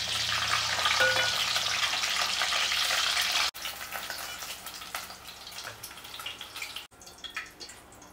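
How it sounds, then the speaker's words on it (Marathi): Eggs frying in oil in a home kitchen pan, a dense crackling sizzle that is loud at first, then thins into scattered pops and spits, with no talk over it. "अल्टी पलटी फ्राय करायचे आहेत ना. गोल्डन करायचे."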